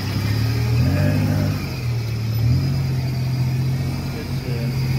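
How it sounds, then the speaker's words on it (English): A four-cylinder motorbike on Loi Kroh Road revs up and settles twice, its engine note rising and falling close by over steady street and riding noise. "it's a nice motorbike."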